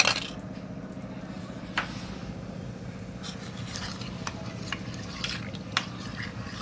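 A spoon stirs a thin batter of ragi flour and water, about a liter of water, with soft swirling and occasional light taps against the vessel over a low background hum, fairly quiet and without talk.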